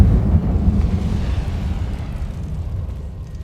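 A fire spell cast in Hogwarts Legacy bursts out as a deep, loud rumbling whoosh of flame, strongest at the start and slowly tapering off over a few seconds, with no one talking.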